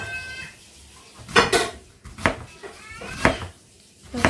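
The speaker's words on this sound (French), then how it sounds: "Couper un oignon" A knife chops an onion on a board with a few sharp, separate knocks spaced about a second apart, close and clear over a quiet kitchen background.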